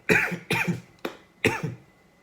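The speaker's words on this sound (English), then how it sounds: "got a bit of a cough" Four harsh coughs in a quick series, close and loud, the third shorter than the rest, with nothing else heard.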